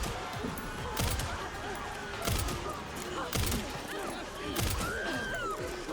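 Gunfire in the video game Resident Evil Requiem, a few sharp broadband bursts spaced about a second apart over a dense, busy game soundscape.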